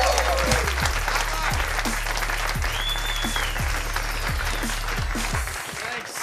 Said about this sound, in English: Give it up for my friend and yours, Mr. Tom Segura, everybody.